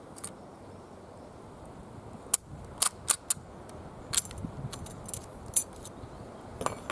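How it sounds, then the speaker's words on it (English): A Finnish M39 Mosin Nagant rifle being loaded from a stripper clip gives off a scattered series of sharp, close metallic clicks and snaps over a quiet background, with no talking. "the stripper clip loading's a bit better on the Finnish M39 than it is on the other Mosins"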